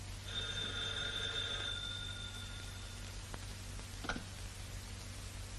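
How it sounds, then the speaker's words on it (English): A telephone bell rings once in a 1940 serial soundtrack, a thin, faint metallic tone that fades after a second or two, followed by a couple of sharp clicks against quiet background hiss. "There's the phone."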